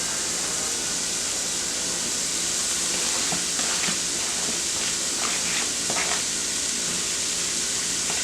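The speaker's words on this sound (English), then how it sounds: "Get my oil good and hot. And I'm just going to throw these noodles in there." Zucchini noodles sizzle steadily in hot oil in a pan, a dense and continuous frying hiss with a few faint stirring clinks in the middle.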